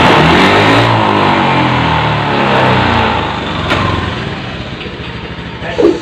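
Fuel-injected Honda Beat FI scooter engine revved hard near the exhaust, the roar wavering and losing power as it stutters, then dropping toward idle before a short final blip.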